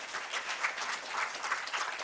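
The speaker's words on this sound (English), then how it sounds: "So a big round of applause for her." An audience gives steady, dense applause for a woman receiving an award, many hands clapping together at an even level throughout.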